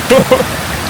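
Steady rushing water of a strongly flowing stream at Kuang Si Waterfall, Laos, fills the clip, a loud close wash of flow, with a brief voice speaking Tamil over it at the start.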